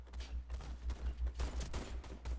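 Rapid gunfire in the Warface shooter game, a dense rattling fusillade of repeated shots at a steady rhythm, moderately loud with no talking over it.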